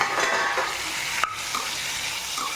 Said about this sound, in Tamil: சும்மா லைட்டாக ஒரு 5 நிமிஷம் இப்படி வதக்கிக்கலாம்.